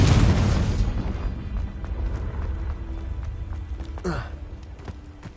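A Confringo blasting spell explodes in Hogwarts Legacy, a loud burst at the start that rolls off into a long rumbling decay, with scattered game effects and a brief whooshing sweep near the end.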